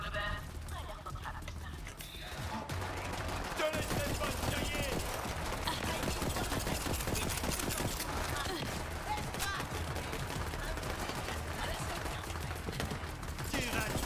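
Sustained gunfire in the Borderlands 3 shooter aimed at an enemy, rapid rattling shots running nearly continuously at moderate loudness over busy game sound, with a player talking over it.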